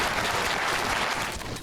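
A canned applause effect set off by a viewer during a Final Fantasy XIV: A Realm Reborn livestream, a brief dense burst of crowd clapping and cheering, loud and uniform, with no speech over it.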